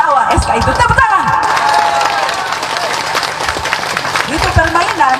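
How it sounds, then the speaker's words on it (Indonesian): A large crowd at an outdoor political rally claps and cheers loudly, with shouting voices and whistles rising over dense applause that stays strong throughout. "Tepuk tangan."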